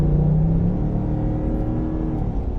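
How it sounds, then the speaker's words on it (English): The V8 engine of a patrol car accelerates onto the I-4 highway, a loud, steady low rumble with a rising drone heard from inside the cabin, with no talk. "You guys heard that V8 purr?"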